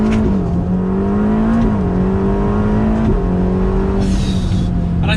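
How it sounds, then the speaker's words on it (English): A Ferrari Roma engine revs loudly under acceleration, climbing in pitch through repeated rising sweeps with brief dips at gear changes, close and continuous with no talking. "this car revs out to just over 7"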